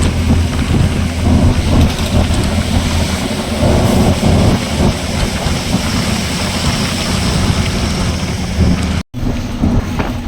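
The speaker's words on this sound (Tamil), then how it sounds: "மழை பெஞ்சாலே கண்ணாடியெல்லாம் சேராயிடுது" Steady, loud rain pours down on a parked 16-wheel truck early in the morning in Bijapur, a dense broadband hiss with low rumbling throughout and a brief dropout near the end.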